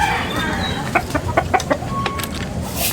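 Several backyard hens cluck in short, close bursts over a steady background hum, with a brief crow-like call near the end.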